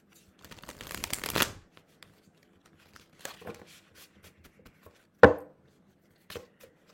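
Tarot cards are shuffled up close in a quiet room: a quick rustling riffle, then softer scattered card handling and one sharp snap of cards being squared.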